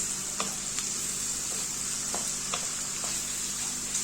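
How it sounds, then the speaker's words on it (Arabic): Onions soften while being stirred in a pan for Alexandria-style liver, with a steady close sizzle and occasional scraping strokes of a spoon throughout. "هنقلب كده لغاية كده لما البصل يدبل، مش يحمر، يدبل بس"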